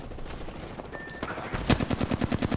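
Apex Legends gunfire: after a quieter start, a rapid automatic burst of evenly spaced shots rattles out loud and close.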